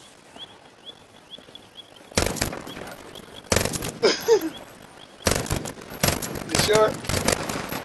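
A quiet opening gives way to loud, close bursts of automatic fire in a video game as a player shoots at a bison, with several volleys separated by short gaps and a brief spoken remark among them.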